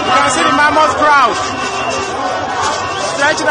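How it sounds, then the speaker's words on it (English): Large crowd at a political rally in Maryland, Lagos, heard as a dense, continuous hubbub of chatter and shouting voices that fills the scene at steady loudness. "You can see the mammoth crowd"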